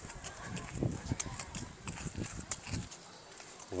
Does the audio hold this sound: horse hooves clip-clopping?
yes